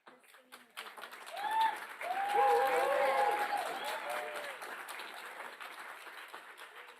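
Audience applause at a youth agrifood conference session swells to a steady patter and then slowly tapers off, with a speaker's voice partly audible over the clapping.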